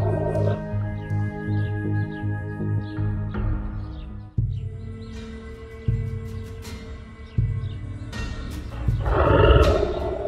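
A lion roars as a cartoon story sound effect, with several deep, loud growling roars in layered bursts, a swelling final roar and faint bird chirps behind.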